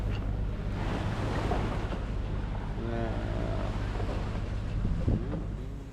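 A sailboat motor sailing across the open ocean between Vanuatu and Australia, with a steady low engine drone under constant wind and sea wash, and a few faint tonal creaks or calls partway through.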